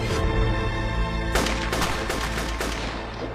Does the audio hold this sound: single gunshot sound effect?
yes